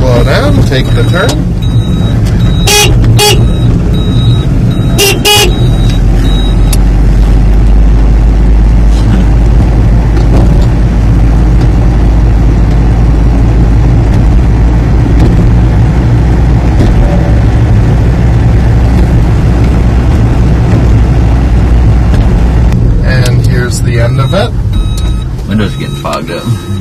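Kurrent electric car slowing and taking a turn, a steady loud drone of the vehicle running throughout, with a few sharp clicks near the start and end and someone talking over it.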